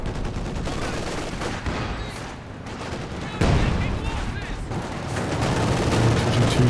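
A ZiS gun artillery barrage in Company of Heroes 2 brings a dense, continuous roar of booming fire and explosions that swells louder partway through.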